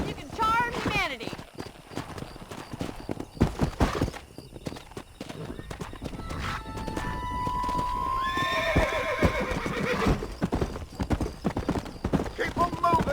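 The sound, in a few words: horses ridden while herding cows in the video game Red Dead Redemption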